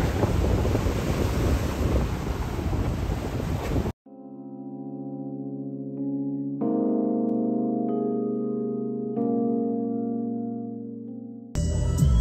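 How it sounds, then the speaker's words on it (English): Strong wind roars against the microphone over rushing waves, then cuts to sustained tonal notes before the blustery noise returns briefly. "It's beautiful day, but it's super windy."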